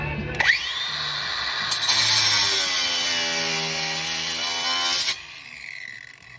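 An angle grinder fitted with a metal cutoff wheel spins up with a rising whine and then cuts into a wooden 2x4 for several seconds, giving a loud, steady, high-pitched grinding tone before the cut ends and the motor winds down.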